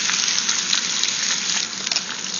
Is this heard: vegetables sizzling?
yes